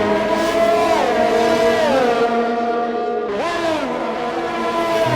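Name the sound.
Ferrari race car engine in a racing video game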